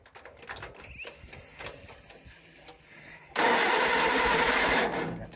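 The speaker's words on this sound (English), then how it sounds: "It runs, actually, here, I'll just fire it up." An Allis Chalmers antique tractor engine cranks and catches, rising into a loud, steady close running roar after a few seconds of mechanical clatter and ticking.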